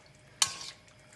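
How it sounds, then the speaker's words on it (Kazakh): A spoon gives one brief clink-and-scrape stir through a pot of simmering broth for German-style beshbarmak, with a quiet bubbling background. "Жақсылап араластырып,"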